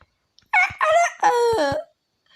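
A loud, close Minecraft rooster crow in three drawn-out bursts, ringing and slightly electronic, followed by silence.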